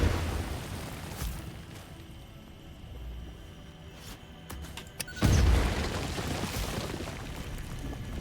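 Explosive charges blasting rock in the video game Satisfactory, with a heavy low boom bursting out around five seconds in over a steady rumbling game ambience.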